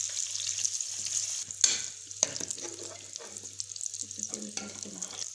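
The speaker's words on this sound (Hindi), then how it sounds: "अब हम इसमें ये अंडे फ्राई कर लेंगे। इसको दोनों साइडों से हल्का हल्का फ्राई कर लेंगे।" Eggs frying in ghee in a pan for an egg gravy, a steady close sizzle and crackle with a few sharp pops and utensil clinks.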